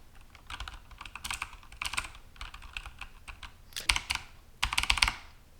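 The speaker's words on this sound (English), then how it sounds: "Next, let's look at if you were typing on like a mechanical keyboard." Mechanical keyboard typing with clicky keystrokes in bursts, some rapid runs and louder clusters near the end, close and clear with no talking, recorded through a Popvoice budget microphone.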